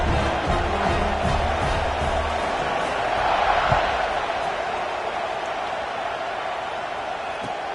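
Virtual stadium crowd in a Madden football game cheers around a kickoff, a continuous broad roar that swells briefly near the middle and then settles to a steady hum.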